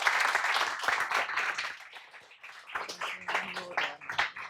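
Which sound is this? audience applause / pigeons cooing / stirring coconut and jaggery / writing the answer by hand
audience applause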